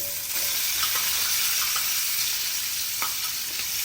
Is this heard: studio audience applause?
no